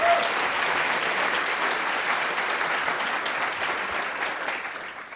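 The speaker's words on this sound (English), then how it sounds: "Round of applause for them" Sustained applause from a large audience at the opening session of a candidate training conference in a hotel, dense and steady for the whole stretch and tapering slightly toward the end.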